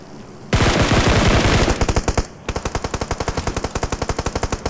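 Gunfire in the mobile battle royale game BGMI: a dense, loud automatic burst, then a steady string of rapid, evenly spaced shots close by, with no talk.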